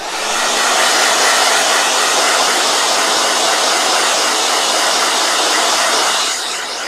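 A blow dryer runs loud and close, a steady broadband whoosh that starts and stops at the edges, with no voices.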